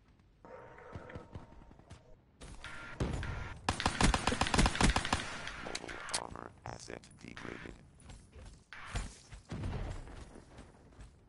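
Bursts of rapid automatic gunfire and single shots ring out in Black Ops 3 multiplayer, loud and close, with game sound effects and a player talking intermittently over the action.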